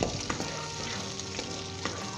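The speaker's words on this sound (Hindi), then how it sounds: "मिनट तक फ्राई करेंगे अच्छे तरीके के साथ, ताकि ये लाइट गोल्डन ब्राउन हो जाए" Garlic and ginger fry in a pan for a Pakistani aloo palak dish, giving a steady, close oil sizzle with a few soft stirring scrapes.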